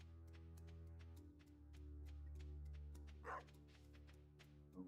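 Small barks from a puppy in the farming game Stardew Valley, several short yips over steady game music, fairly faint and with no talk.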